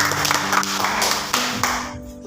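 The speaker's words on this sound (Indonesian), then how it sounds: "tepuk tangan buat kelompok B" A small group of listeners claps for group B after a storytelling presentation, a few loose, uneven hand claps close by that trail off into a tonal hum.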